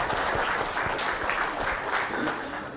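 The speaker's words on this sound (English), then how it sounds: "Round of applause." Audience at a lecture on the last U.S. nuclear test giving a round of applause, a full, steady burst of many people clapping, fairly close and sustained, tapering slightly toward the end.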